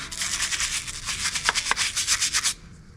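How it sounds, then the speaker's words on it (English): A scrub brush works dish soap around the antler bases of a white-tailed deer skull during a European mount cleaning, giving quick, even back-and-forth scrubbing strokes, close and fairly loud, that stop suddenly. "wash around the bases of that antler, just to get the scum line off of it."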